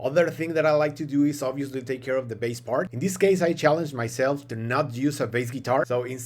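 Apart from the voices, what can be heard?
No distinct noise like a dog, phone or traffic.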